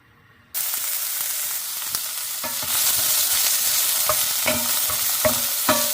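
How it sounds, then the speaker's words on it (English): Onions hit hot ghee in a stainless steel pan with a sudden loud sizzle that holds steady throughout, broken by repeated scraping stir strokes, with no voices. "I'll heat up my pan, stainless steel pan. I'll get that hot. Get my ghee in here, and onions, first step."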